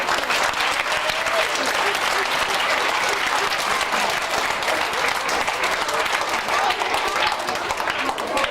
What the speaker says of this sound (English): Right, let's give them all a big round of applause.